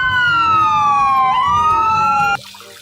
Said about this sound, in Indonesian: kita menemukan ambulan teman-teman